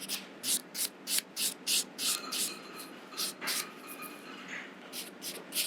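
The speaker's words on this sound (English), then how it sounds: "So I will always use the finer side of the buffer" The finer side of a nail buffer rubs a fingernail during gel removal, producing quick, soft rhythmic scratchy strokes, about a dozen in a row, close and quiet.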